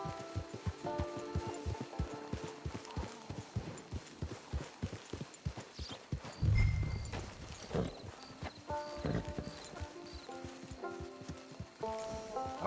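Horse hooves clip-clop at a steady walking pace in Red Dead Redemption 2, quiet and close, with a brief snort or whinny midway and faint game ambience around.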